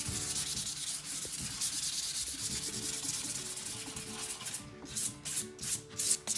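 Fine 320-grit sandpaper rubbing along the edges of chalk-painted furniture, a steady close scratchy hiss that turns into shorter, choppier strokes near the end, with no talking.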